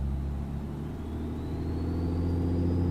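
A turbocharged Blacksquare Bonanza A36TC engine runs steadily in a flight simulator game, a continuous low drone with a thin whine rising slowly as the turbo spools, held on the brakes with no talking.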